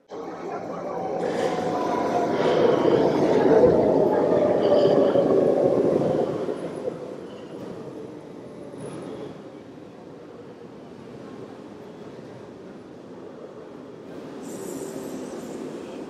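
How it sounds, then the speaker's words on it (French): A metro train rolls into Pannenhuis station on an underground platform, its loud rumbling roar building over several seconds with faint wheel squeal, then easing off into a steadier, quieter hum as it slows to a stop. "il y a un métro qui probablement va arriver d'un moment à l'autre"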